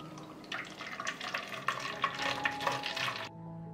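Chamomile tea is poured into a spray bottle, giving a steady watery trickle and splash that runs for about three seconds close by, then stops abruptly.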